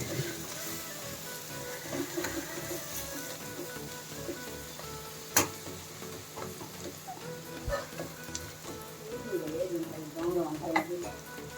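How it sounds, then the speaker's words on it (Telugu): Onions and tomato frying with chilli powder and salt in a pan for a prawn curry, a steady sizzle with irregular spoon stirring and scraping, close and moderately loud, with faint background voice. "3 టీ స్పూన్ల కారం వేసి బాగా వేయించుకుందాం"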